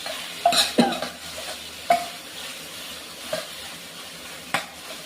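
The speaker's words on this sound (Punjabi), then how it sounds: "ਪਨੀਰ ਨੂੰ ਵੀ ਚੰਗੀ ਤਰ੍ਹਾਂ ਰਲਾਵਾਂਗੇ ਤਾਂ ਜੋ ਪਨੀਰ ਦੇ ਨਾਲ ਮਸਾਲਾ ਰਲ ਸਕੇ" Paneer is stirred into Maggi masala in a pan: a soft, steady sizzle with several distinct scraping strokes of a spoon against the pan, close and unhurried, with no voices.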